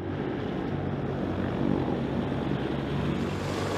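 Sikorsky CH-53K heavy-lift helicopter with three engines, a steady, broad, rumbling rotor and engine drone at moderate distance, swelling slightly midway, with no voices.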